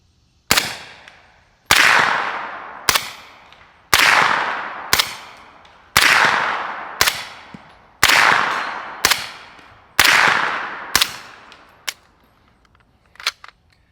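A series of suppressed gunshots through an AB Suppressors F4, alternating subsonic and supersonic rounds: about a dozen sharp cracks with decaying tails, paired in a steady rhythm, loud and close, with no voices.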